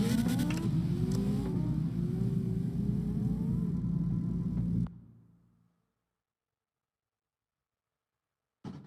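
The engine of a Subaru BRZ in a racing video game revs and shifts under steady load, pitch climbing through gears, then cuts out abruptly to silence before a brief burst returns at the end.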